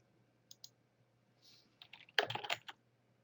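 Typing on a computer keyboard while entering text in a web clipper tool: a couple of light isolated clicks, then a quick burst of keystrokes, close and fairly quiet in a silent room.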